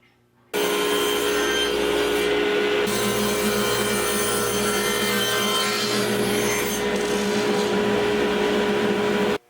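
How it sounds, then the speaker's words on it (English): A table saw rips through wood for a box joint jig, its loud, steady whine and cutting noise running continuously for several seconds after a sudden start, with no talking. "I'm going to use the table saw with one cut this way and one this way"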